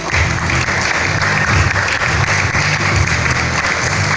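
An audience at a 10m air rifle men's shooting final in Lima, Peru applauds steadily, dense clapping filling the space from start to finish with a faint crowd murmur beneath.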